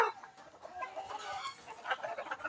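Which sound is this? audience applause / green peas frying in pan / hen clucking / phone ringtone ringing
hen clucking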